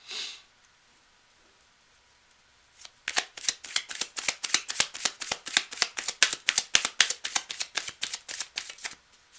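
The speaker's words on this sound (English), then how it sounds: "I'm going to keep shuffling." Tarot cards being shuffled, starting after a quiet pause with a faint breath, then a rapid, close run of sharp riffling snaps that continues for several seconds.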